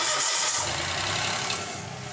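A Mitsubishi Mirage G4 engine, freshly filled with flushing oil, cranks and catches, settling into a steady mid-pitched idle that runs loud and close throughout, with no voices.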